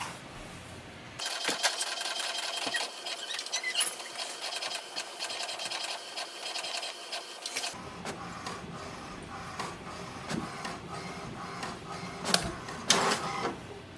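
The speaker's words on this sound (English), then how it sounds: "Wait for the printer to print the alignment page." An HP DeskJet 4220e inkjet printer prints an alignment page, its mechanism whirring and clattering steadily, then shifting to rhythmic feeding and clicking sounds toward the end.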